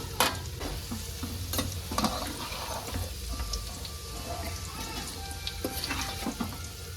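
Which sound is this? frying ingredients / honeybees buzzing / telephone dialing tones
frying ingredients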